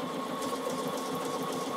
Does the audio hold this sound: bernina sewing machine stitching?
yes